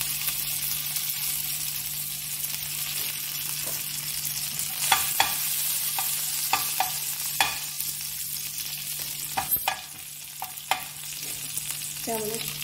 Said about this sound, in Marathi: तेल गरम झालं की त्यामध्ये जरासं जिरे आणि मोहरी टाकूया। नंतर लसूणची पेस्ट टाकूया।